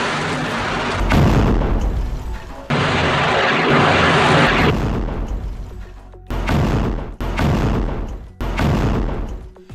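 Heavy rocket barrage in a Hezbollah attack on Israeli troops in Lebanon, with loud booming blasts and roaring bursts, including a sustained rumbling stretch followed by several sharp, separate explosions.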